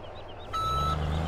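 A bucket truck in Farming Simulator 17 rumbles along as its reversing beeper switches on partway through, a steady electronic tone over the low engine drone.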